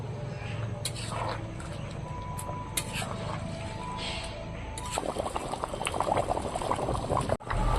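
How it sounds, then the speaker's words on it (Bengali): Water bubbles and churns at a steady boil, then a louder rushing wash of liquid pours in for the last few seconds, close by. "জলটা একদম টকবক করে ফুটেছে তো ওই জলটাই মাংসটা দিয়ে দেবো"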